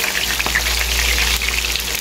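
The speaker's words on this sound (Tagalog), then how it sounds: "At saka ako naman piprituhin yung sibuyas." Sliced onions frying in a pan for chicken bistek, a steady close sizzle with soft crackles and faint stirring, continuous and alone.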